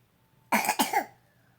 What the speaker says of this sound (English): My son has learned the art of fake coughing.